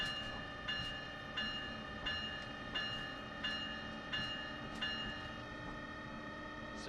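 A train on the NEC line near Newark in Train Sim World, heard from an outside view, rolls along with a steady rumble and regular rhythmic clicks from the rails, loud and continuous without talk.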